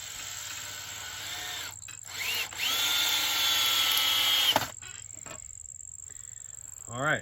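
A power driver spins a screw with a washer into a door hanger bracket for a Jeep TJ, giving a whirring burst that rises in pitch and runs for a couple of seconds, close and moderately loud, with short pauses around it.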